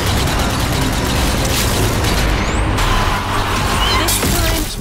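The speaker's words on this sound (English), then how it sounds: "Some grenade throwing." Grenades burst in the zombie shooter Zombie Army 4: Dead War, with heavy booming blasts over a dense wash of continuous battle noise and mechanical rumble, loud and near throughout.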